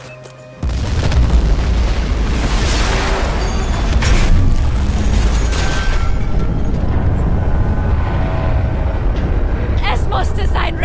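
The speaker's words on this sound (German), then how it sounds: "Die Explosion bringt ihn um!" Massive explosion in the video game Battlefield 4, a sudden loud blast followed by sustained rumbling, crackling debris and heavy roaring noise throughout, with a brief burst at the end.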